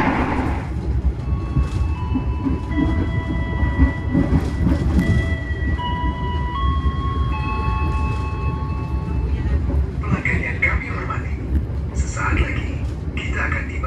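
The Sancaka Utara passenger train rumbles steadily along the rails toward Yogyakarta on the Pantura line, with clattering wheels and occasional high squeals, while a voice speaks over the noise.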